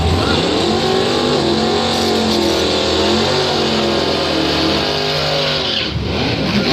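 A 1969 Camaro and its opponent launch at Northern Michigan Dragway during bracket drag racing: loud, continuous engine roar rising in pitch through the run, then tapering near the end.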